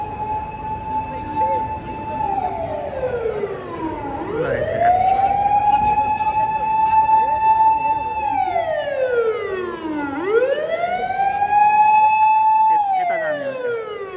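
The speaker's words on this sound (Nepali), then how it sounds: "एम्बुलेन्स आइसक्यो" An ambulance siren wails loudly nearby, its pitch sliding slowly up and down in long repeating sweeps over steady background noise.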